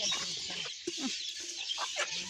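Chickens clucking in a village yard, several short close clucks scattered over a quiet background.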